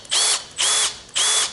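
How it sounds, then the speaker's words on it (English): Battery drill on its drill setting, likely at slow speed, used while preparing a wooden billet for a rolling pin, runs in three short, loud bursts with a high whine and brief pauses between them. "So with the battery drill, make sure it's on the drill setting."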